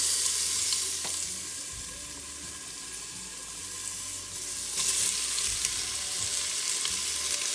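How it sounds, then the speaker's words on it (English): Onions hit a hot pan for a quick pulao cooked in an Instant Pot. A steady, loud sizzle and hiss runs throughout, with faint stirring scrapes. "Then I'm going to add my onions to the pan."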